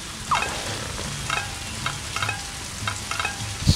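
Crackling, sizzling rain spell falling on a fire in Scribblenauts Unlimited, a steady frying-like hiss with regular soft bursts, moderately loud and with no voices over it.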